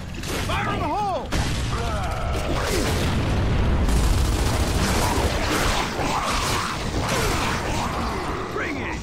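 A grenade goes off in the shooter Gears of War 2, a loud booming blast amid chaotic combat noise, creaking debris and shrill creature screeches, with brief shouted voices.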